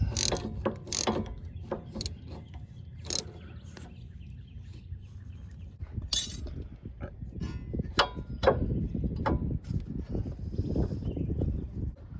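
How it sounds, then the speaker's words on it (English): An old universal wobble socket on a ratchet works a sway bar link on a Honda Element, giving short metallic clicking bursts early on, then a continuous rattling, scraping mechanical texture close by with no talking. "What I do have is this old universal wobble socket, so we're gonna go with that."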